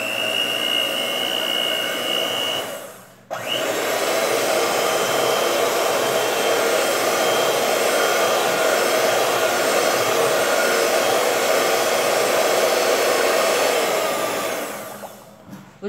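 An electric mixer beats a homemade bar soap mixture made with multipurpose cleaner, a loud, steady motor whine running close by, cutting out briefly near the start, then droning on unbroken before winding down, with no talking.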